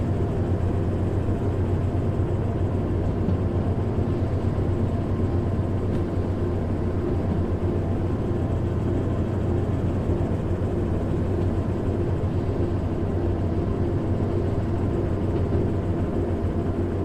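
Shunter locomotive diesel engine in the Derail Valley railway game, a steady low rumbling drone that holds evenly throughout, heard alone without talk.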